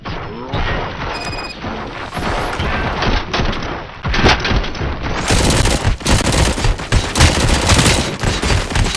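Sustained gunfire from a shootout in the video game RoboCop: Rogue City, dense overlapping bursts and impacts with crashes, loud and continuous, intensifying partway through.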